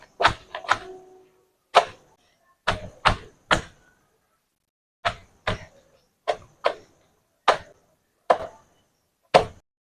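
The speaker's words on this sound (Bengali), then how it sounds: "এই পরোটাটাকে এবার পেটিয়ে নেব।" A cooked petai paratha being beaten by hand: a series of sharp, separate slaps and thumps in irregular pairs and singles, close and clear against silence.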